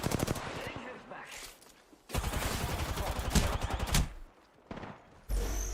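Rapid bursts of gunfire fill a video game shootout, clattering volleys and sustained automatic fire in several loud stretches, with a player's voice talking among the shots.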